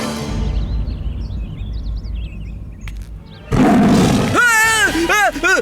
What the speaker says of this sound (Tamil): புலியோட உருமல் கேட்டது.